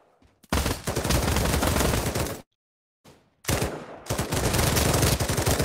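Automatic gunfire in Pavlov VR as a full magazine is emptied: two loud sustained bursts of rapid shots separated by a brief silence, the second burst running on steadily to the end.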